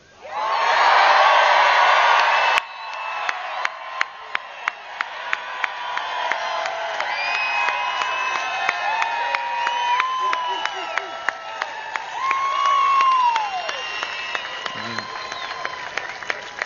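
A large outdoor rally crowd roars and cheers in support of law enforcement, a loud wall of shouting for the first couple of seconds, then scattered whoops, claps and calls continuing, with a second swell of cheering later.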